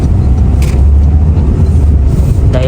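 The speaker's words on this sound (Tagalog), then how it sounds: "Ito yung bus na sinasakyan ng anak ko pag pupunta ng school" A public bus passing on a snowy road in Greenland, a steady loud low engine rumble and road noise filling the whole stretch without any voices.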